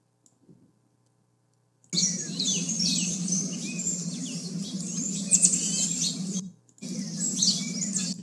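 A small bird chirps and twitters steadily at close range, with rapid high tweets and some clicking. The calls break off briefly, then resume.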